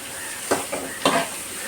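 Shredded cabbage drops into a hot pan for chicken fried rice, giving a steady close sizzle broken by two or three brief stirring scrapes and clatters.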